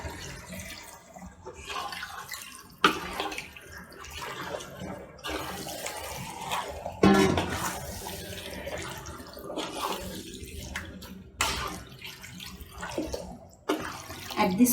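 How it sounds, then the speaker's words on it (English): Water poured into a large pot of cooking chicken, a few short splashing pours with quiet kitchen clatter between them, fairly soft and close. "And let's add some water."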